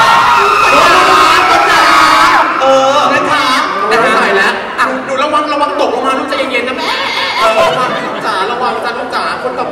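A large crowd screams and cheers loudly and continuously at the Cleo 50 Most Eligible Bachelors 2018 launch event in Thailand, with shrill whoops and overlapping shouts throughout.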